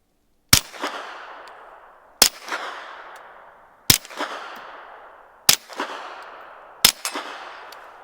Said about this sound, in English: We'll shoot 4 rounds into the dirt and try to hit steel one time.